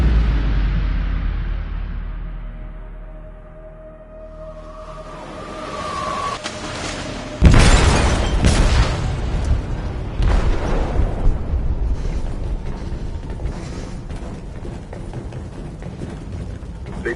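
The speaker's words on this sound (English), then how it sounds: "They detonated an explosive in the hold" Explosion in the hold of a ship in the video game Detroit: Become Human, a sudden loud boom that breaks a quieter tense stretch and then rumbles on, with debris and mechanical noise continuing afterward.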